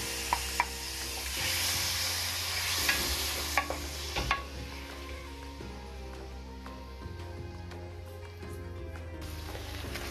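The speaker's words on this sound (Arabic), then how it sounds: "أول شي حطيت قطعة زبدة بس تدوب شوي، بنضيف عليها الكالامار." Calamari pieces sizzle in melted butter in a pan while being stirred, a steady frying hiss broken by scraping clicks and knocks from the utensil, close and fairly quiet.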